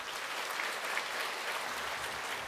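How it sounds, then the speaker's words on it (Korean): A congregation in a Korean church claps to welcome an elderly pastor to the pulpit, a dense, even wash of applause filling the whole moment without pause. "목사님 나오실 때 박수로 영접하십시다."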